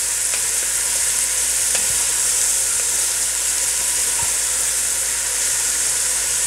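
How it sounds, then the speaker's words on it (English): Finely sliced herbs and onions fry in sunflower oil in a large pot, giving a loud, dense, unbroken hissing sizzle with a few faint stirring scrapes underneath and no talking. "so now I'm stirring"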